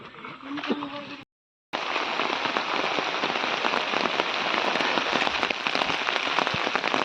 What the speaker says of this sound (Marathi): पुन्हा पाऊस चालू झाला आहे